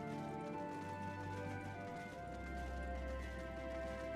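Horse hooves clip-clop in Final Fantasy XIV, a steady trotting patter over a constant bed of game music and ambience, with no talking.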